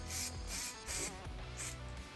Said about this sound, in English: I also wanted to spray through the openings inside the boot.